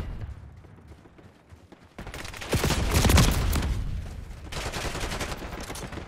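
Gunfire in Call of Duty Black Ops 6: quiet rumble at first, then a dense burst of rapid automatic fire and explosions that swells loud, eases, and returns as sustained shooting.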